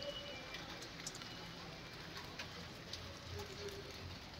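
Rain falls steadily on a rooftop garden of potted flowering plants, a soft, even hiss with scattered drip ticks, quiet and continuous throughout.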